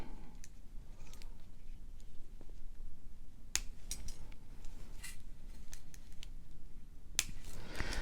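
Scissors snip through the ends of a beaded bracelet cord, giving a few sharp, isolated clicks at close range over a quiet, faintly hissing room with no talking.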